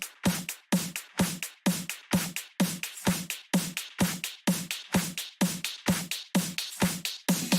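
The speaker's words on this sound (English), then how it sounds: "I used the snare from a Dyro pack from Splice, and it sounds like this" A punchy electronic snare sample from a Dyro pack repeats about twice per second in a steady loop, each hit sharp with a short decaying tail, loud and alone.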